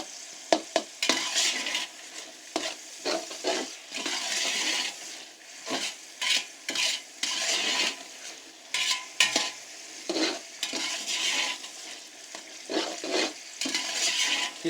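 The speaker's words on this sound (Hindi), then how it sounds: "अभी यहाँ पे अच्छे से आपने इसको यहाँ पे फ्राई करना है।" Savour-style pulao rice frying in a pot over high heat while being stirred, with repeated scraping strokes in an uneven rhythm over a constant close sizzle.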